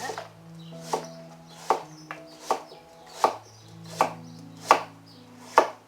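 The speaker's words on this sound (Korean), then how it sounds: "생선 조림에 들어갈 무는 약간 두껍게 썰어줍니다" A knife chops radish into thick slices on a cutting board, about nine firm, evenly spaced thuds, with a low hum underneath.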